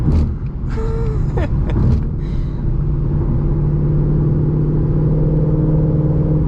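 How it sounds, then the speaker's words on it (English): A 2020 Ford Mustang GT with a Borla S-Type cat-back exhaust rumbles steadily with a low drone, rising briefly into a throatier rev near the start before settling into a constant idle hum. "When you start giving it gas, then that's when the exhaust comes out."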